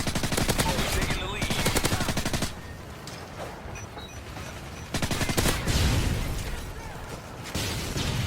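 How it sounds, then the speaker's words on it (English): Machine gun fire in loud, rapid bursts, one of about two and a half seconds and another of about three seconds, separated by a short, quieter lull. "Your machine gun, sir."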